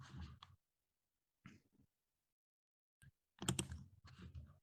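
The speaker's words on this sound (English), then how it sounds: "I've typed the interpretation translation in the chat box." Short bursts of computer keyboard typing, close and fairly quiet, separated by stretches of near silence, with a denser flurry of keystrokes toward the end.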